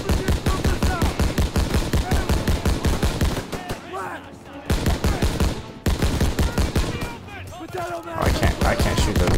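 Call of Duty WW2 gunfire in fast machine-gun bursts, loud and close, broken by short pauses where voices shout over the battle.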